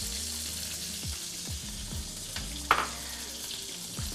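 Butter melts and sizzles in a pan with a soft, steady frying hiss, interrupted by periodic scraping strokes and a brief sharp clink near the middle, heard up close without talking.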